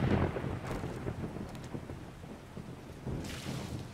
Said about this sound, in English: Here goes with the rain again.